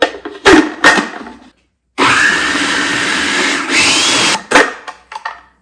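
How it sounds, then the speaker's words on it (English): A food processor whirs loudly for about two and a half seconds while chopping dates into a caramel mixture, bracketed by several thunks and knocks of the machine and bowl. "that helps to give the blender a chance to break down those dates"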